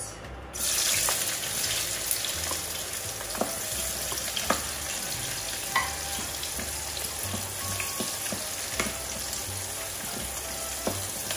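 Onions dropped into a hot oiled pan for chicken kaldereta, with a sudden burst of sizzling that settles into a steady fry and occasional clinks and stirs, close and unbroken by talk.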